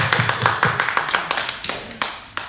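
A small church youth group claps briefly at a gathering, a short run of distinct, near claps in an uneven rhythm that fades out within a couple of seconds.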